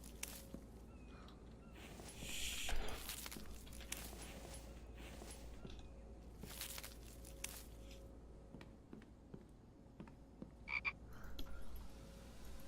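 Frogs croak steadily in the background of The Infected video game, a low repeated chorus with scattered footsteps and small clicks over a quiet ambient hum.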